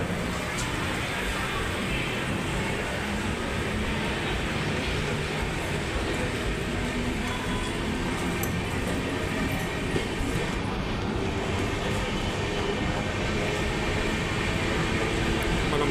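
An express train at a crowded Mancherial railway station produces a continuous rolling rumble with faint wheel clatter, while murmuring voices of the crowd sit underneath.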